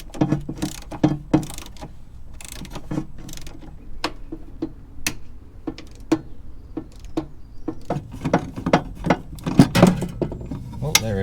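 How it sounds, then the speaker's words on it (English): Rapid, irregular clicking of a ratcheting spanner loosening bolts on a jammed motorhome electronic step, close and fairly quiet, with a faint low rumble underneath. "Let's get a spanner out of those bolts."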